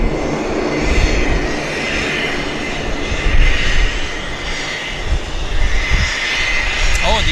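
A Boeing 737 MAX at Vancouver Airport roars loudly on takeoff, a broad sustained jet-engine rumble and hiss that swells and holds for several seconds.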